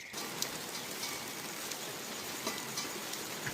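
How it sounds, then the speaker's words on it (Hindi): Light, steady rain falls outdoors in a mountain village during a Muharram gathering, a soft, even hiss with occasional nearby drops tapping a surface and no voices. "हल्की हल्की बारिश भी अभी आ रही है"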